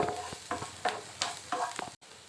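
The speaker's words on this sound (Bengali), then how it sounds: "গ্রেট করা রসুনটা দিয়ে পেঁয়াজটা একটু ভেজে নিচ্ছি" Grated garlic and onion fry in a pan, with about six short scraping bursts of a spatula stirring at an even rhythm over a faint sizzle, close and quiet.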